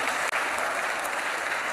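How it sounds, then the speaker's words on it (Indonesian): A church congregation claps in a dense, steady burst of applause during a lively sermon, filling the space evenly without a break. "Tepuk tangan lagi ke sini ke pribadi."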